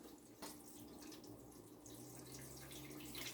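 Water pours from a milk jug into an Aerogarden Bounty, a steady close gurgling splash that continues without pause, with a brief knock near the start.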